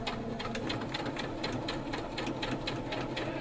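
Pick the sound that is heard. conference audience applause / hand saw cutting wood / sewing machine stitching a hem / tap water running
sewing machine stitching a hem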